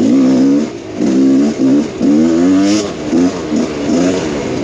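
A Rieju MR Pro 300 motorcycle accelerates in third gear, its engine revving loud and close in repeated rising surges with brief dips between pulls, a buzzy, throaty drone throughout.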